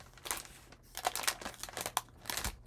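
Leftover plastic packaging from paper-pad ephemera crinkles and crackles in close, irregular bursts with short pauses, with no talking over it.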